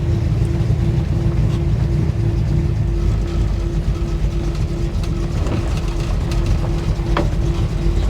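A car engine runs up under load while its automatic transmission shifts, a loud, steady low rumble with a droning tone that changes pitch, and no voices.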